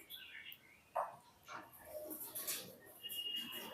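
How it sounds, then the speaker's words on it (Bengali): Pet cockatiels giving a few short, faint chirps and calls, spaced irregularly against a quiet indoor background. "এই হচ্ছে আমার 2 পেয়ার ককটেল।"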